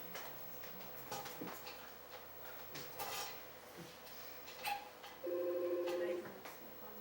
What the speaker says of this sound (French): Il programme le téléphone.